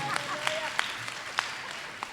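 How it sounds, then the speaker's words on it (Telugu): An audience at a women's church convention applauds faintly and briefly, a soft spread of scattered claps heard from a distance with a voice over it. "మళ్ళీ చప్పట్లు కొట్టండి."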